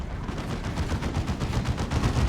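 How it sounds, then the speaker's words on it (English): A plasma cannon fires from a Grey Knights Dreadnought in a 3v3 Warhammer 40,000: Dawn of War 2 battle, a dense, rapid stream of loud crackling blasts rolling continuously throughout, with no talk over it. "It's a plasma cannon Grey Dreadnought."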